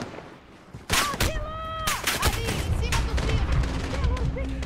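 A sudden burst of rapid gunshots in Call of Duty: Modern Warfare (2019), followed by continued sharp firing and rumbling under a steady electronic hum, with a voice briefly heard.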